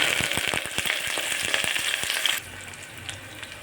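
Onions and curry leaves dropped into hot oil with cumin and mustard seeds give a bright crackling sizzle with sharp popping, then settle into a quieter, softer fry near the end.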